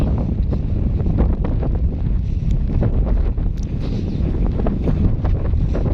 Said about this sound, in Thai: หนาวกับลมน้ำทั้งลมทั้งหนาว